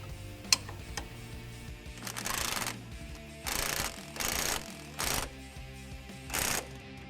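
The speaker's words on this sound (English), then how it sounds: "grab your wrench, so get that started" A hand wrench ratchets a bolt on a Nissan Xterra shock skid, several short bursts of rapid clicking separated by brief pauses, close and fairly quiet.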